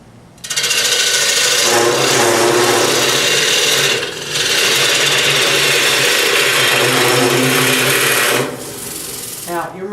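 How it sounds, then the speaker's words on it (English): A wood turning tool cuts into a calabash bowl spinning on a lathe, giving a steady, loud rasping and rubbing noise that runs nearly the whole time, with a brief dip midway and a few quiet spots. "as soon as you start cutting, the shavings build up by the tool"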